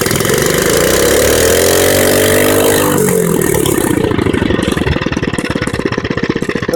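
A mini bike engine roars loudly up close, climbing in pitch as it revs, then dropping into a fast, rough, clattering idle-like chug.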